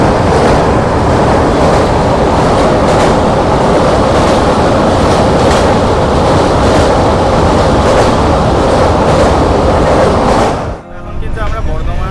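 The Jammu Tawi Express 13151 roars loudly along the tracks with a steady rumble and rhythmic clacking, then the noise abruptly drops away near the end.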